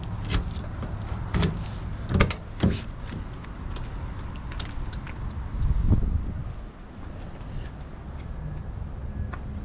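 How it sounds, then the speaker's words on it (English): Keys jangle and rattle in the lock of a 1983 Lincoln Continental's door, with a few sharp metallic clicks and a thud against a steady outdoor background. "Unlock the door real quick."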